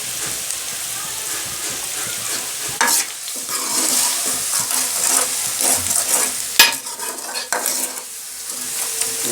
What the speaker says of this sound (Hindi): मसालों को हम भून लेंगे।